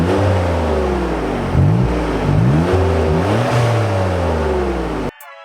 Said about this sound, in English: Okay, so this is the before. Stock exhaust.